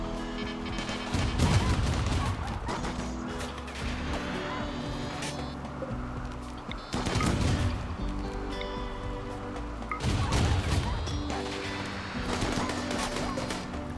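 Defensive turrets in RimWorld fire at attacking wargs in repeated bursts of rapid, rattling gunfire, several heavy volleys spaced a few seconds apart over a constant background rumble.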